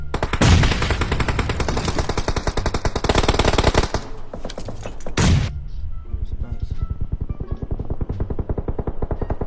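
Rapid automatic gunfire from a team deathmatch shooter game rattles in dense, loud bursts for about four seconds, pauses, fires another short burst, then gives way to quieter rhythmic in-game mechanical ticking.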